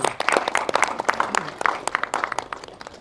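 An audience at a film trailer launch event applauding, a dense burst of claps from a nearby crowd, with speech mixed in.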